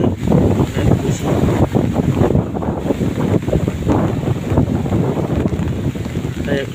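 Strong wind gusts just after a rain shower, roaring and buffeting the microphone in a loud, continuous rush with rising and falling surges and no speech.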